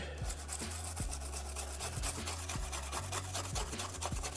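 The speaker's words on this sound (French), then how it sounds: "Brosse, brosse, brosse, me brosse la carte PCB." A brush scrubs a Sega Genesis circuit board in steady, close back-and-forth strokes, a continuous dry rasping with rhythmic pulses and no talking.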